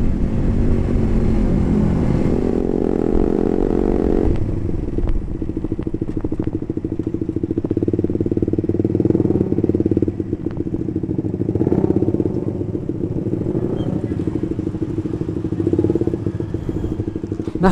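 A motorcycle engine roars steadily at close range on a fast Sunday morning group ride through curves, revving hard with a rough, droning growl that holds loud throughout, wind noise riding over it.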